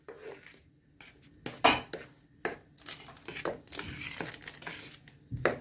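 Flour is stirred in a bowl with a utensil for a semolina-style corn cake with orange and vanilla, giving irregular scraping and clinking strokes against the bowl, close and moderately loud, with no talking.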